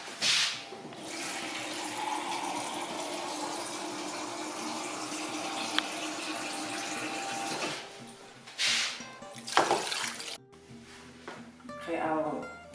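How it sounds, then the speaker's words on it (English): About 2 liters of water pours into a pot for Japanese curry, a steady gushing splash lasting several seconds, followed by a few shorter pours and clinks. "So I pour out the water. Around 2 liters."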